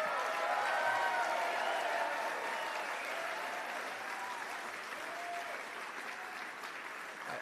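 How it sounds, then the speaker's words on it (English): An audience at a gala speech applauds in a sustained wash of clapping that fades gradually, heard from a distance with no voices over it. "I didn't get any of this applause."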